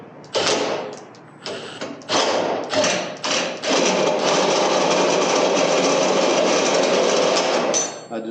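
A Milwaukee drill spins a bolt thread tool on a small old trailer, starting with several short bursts of whirring and then settling into one long, steady, loud run before stopping.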